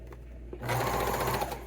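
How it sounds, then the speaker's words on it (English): A sewing machine stitching a seam on a winter beanie, starting after a quiet moment and running steadily for about a second, close and clear. "over at my sewing machine, I'm going to stitch this"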